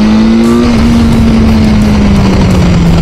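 A BMW S 1000R motorcycle engine holds a loud, steady high-revving drone, its pitch sagging slightly as it runs on, close and saturated with heavy wind rush and no talk.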